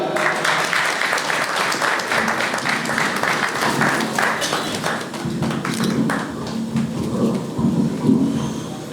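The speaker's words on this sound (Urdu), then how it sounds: "بہت ساری تالیاں" Dense, rain-like clapping from an audience at a Pakistani-Norwegian community forum in Oslo while flowers are presented to a guest, a continuous patter that thins slightly near the end.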